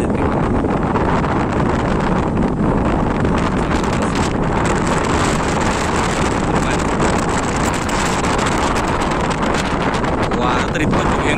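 Fierce wind sweeps across the open reservoir of Yevti Dam, producing an unbroken, loud roaring rush and heavy microphone buffeting that holds steady throughout.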